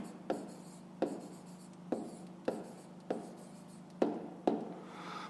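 A pen writes on paper while a fifth-grade math problem is worked, close and quiet, with about eight short scratchy strokes spaced roughly every half second to second over a faint steady hum.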